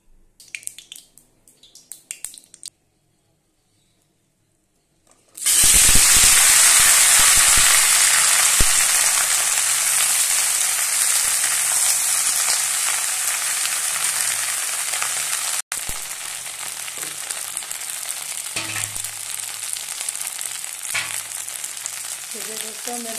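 Okra (bhindi) frying in a pan: after a few quiet taps, a loud, steady sizzle bursts in and hisses continuously, with occasional pops and faint stirring.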